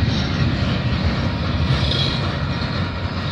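A CP freight train passing close by, its end cars rumbling steadily with a dense low roar and faint wheel clatter throughout.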